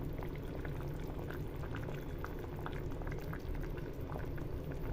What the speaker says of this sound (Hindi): तो एक बॉईल आने देते हैं और फिर ढक के इसको पकाते हैं।